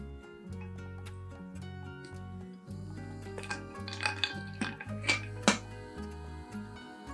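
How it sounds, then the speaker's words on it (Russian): A metal skimmer clinks and scrapes against a pot while stirring mushrooms in water, giving light irregular taps that grow brighter midway, over a low background hum. "при помощи шумовки вот так вот весело гоняем грибочки по кастрюльке"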